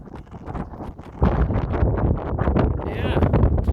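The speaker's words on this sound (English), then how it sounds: "it's a hot sunny day and a bit of wind" Wind gusts buffet the microphone outdoors on a hot, sunny harvest day, a steady low rumble that strengthens partway through and stays loud to the end.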